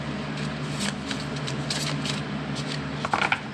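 A deck of cards being shuffled by hand, a continuous riffling flutter with a few sharper snaps near the end, close and fairly quiet with no talking.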